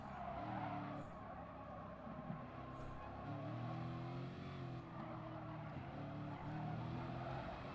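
Corvette race car in Gran Turismo Sport at the Nürburgring, its engine droning steadily and loud throughout with brief tyre squeals mixed in, a voice talking faintly underneath.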